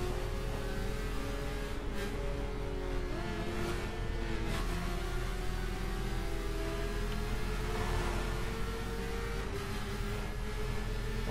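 A BMW S1000 motorcycle engine revs steadily at speed on a street ride, its whine rising and falling over continuous wind and road noise, fairly distant and muffled beneath the rush of air.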